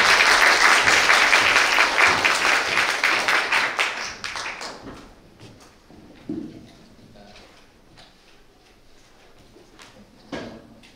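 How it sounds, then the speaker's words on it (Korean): Audience applause at an AI forum on ChatGPT and creativity, a loud crowded burst of clapping that fades over several seconds into scattered claps and small room noises. "여러분 큰 박수 부탁드립니다."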